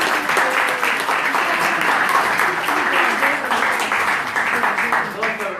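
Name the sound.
audience applauding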